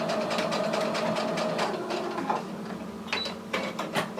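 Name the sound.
sewing machine stitching and back tacking a cushion cover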